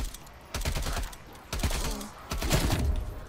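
Submachine gun fire aimed at a cluster of zombies in the video game Call of Duty Black Ops Cold War, heard as three dense bursts of rapid shots separated by short pauses, loud and up close.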